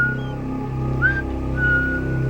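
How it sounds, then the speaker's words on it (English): A man whistles a casual tune, a thin wavering line of notes over a steady low hum of background sound, fairly soft and alone without speech. "He leaves real casual like, whistling his favorite tune."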